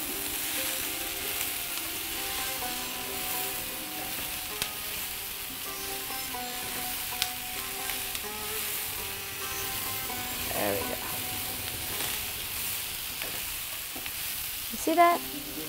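Shrimp, onions and bell peppers with curry leaves and cilantro frying in a pan, a loud steady sizzle with soft stirring scrapes and a brief louder toss near the end, close up with no talk.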